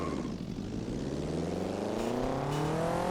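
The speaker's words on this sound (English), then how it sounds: "This engine sound is completely wrong" Simulated car engine in the BeamNG.drive driving game revving up, a smooth rising whine with climbing harmonics that sweeps upward steadily, close and continuous with no talking.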